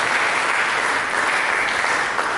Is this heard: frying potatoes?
no